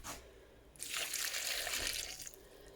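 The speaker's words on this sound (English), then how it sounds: "now I'm going to put in a cup of water, boiling hot water" Boiling hot water poured from a cup onto dates and baking soda, a steady splashing gush lasting about a second and a half, close by and alone.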